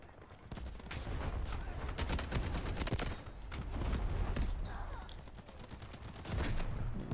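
Rapid gunfire in the shooter game Delta Force Hawk Ops, bursts of automatic shots cracking in quick succession over a continuous battle din, some near and loud, others more distant.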